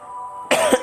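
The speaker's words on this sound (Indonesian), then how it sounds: "Maaf, batuk tapi gak ada iklannya." A single short cough bursts out over a faint background tone, a quick harsh exhalation with a slight throat-clearing edge, close to the microphone.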